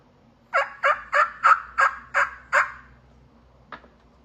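A handheld turkey call imitates a turkey's combo cut: seven sharp, evenly spaced clucking yelps in quick succession, then a short pause and one final quieter note, close and clear with no talk.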